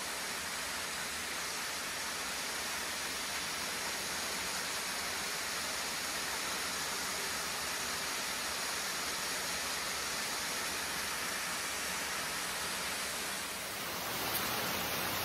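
Jones Falls, a waterfall reached by a side trail off the Appalachian Trail, roars as a steady, broad rushing hiss that stays loud and unbroken throughout with no voices.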